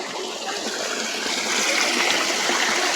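Water pouring out through a lifted gate at a main press during low tide, a steady broadband rush like a stream that grows slightly louder midway, continuous and near, with no voices.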